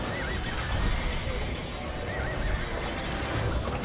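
Cavalry horses of mounted archers in a strategy video game whinny and neigh over the clatter of hooves and a busy battle bed, moderately loud and continuous, with a voice talking alongside.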